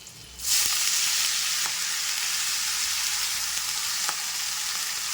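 Fenugreek leaves dropped into hot tempering in a pan burst into a loud, steady sizzle after a brief quiet start, with a few faint spoon taps, close and continuous, no speech.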